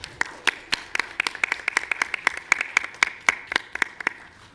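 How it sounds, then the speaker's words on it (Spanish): Applause at a youth public policy forum: sparse, distinct hand claps from a small audience, fairly close and moderately loud, with a steady irregular rhythm and no talking. "Pedimos un fuerte aplauso,"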